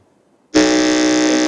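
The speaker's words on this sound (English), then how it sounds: "Let us hear the sound of the buzzer from Christ Model Academy." A loud, steady electronic buzzer at a school quiz contest sounds after a brief quiet moment, holding one harsh tone for about a second before cutting off.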